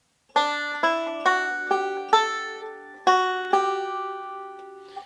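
Banjo plucks a short phrase of the fiddle tune Whisky Before Breakfast, about eight bright ringing notes in a steady rhythm, played alone with the last note decaying.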